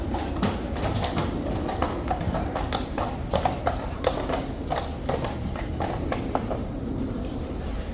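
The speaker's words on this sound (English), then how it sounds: "Okay, I'm hearing the horses." Hooves of two mounted troopers' horses clip-clop steadily through open gates in London, a regular walking rhythm of sharp strikes at moderate distance over a constant outdoor background.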